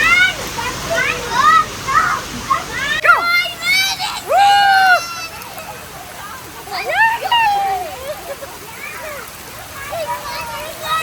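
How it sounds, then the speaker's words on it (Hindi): Heavy rain falls steadily during a family outing, a constant hiss heard beneath frequent children's and adults' voices. "गाइस बारिश तो बिल्कुल रुकने का नाम ही नहीं ले रही।"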